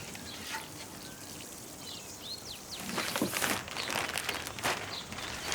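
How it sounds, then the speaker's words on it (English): Water poured from a can or hose onto a bromeliad in a garden, a soft splashing trickle that grows louder partway through, with faint outdoor insect chirps in the background. "Time to just give it a little bit of water."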